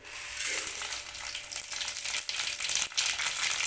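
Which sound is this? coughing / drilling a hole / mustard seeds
mustard seeds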